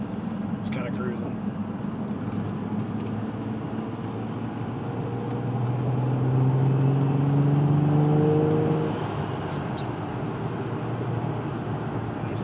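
A supercharged 2005 Nissan 350Z Touring cruises in fourth gear, its engine a steady low drone with road and cabin noise that swells briefly as it pulls harder, then settles again.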